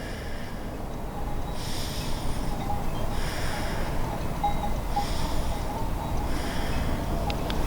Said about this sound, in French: on dynamise la cage thoracique par le souffle.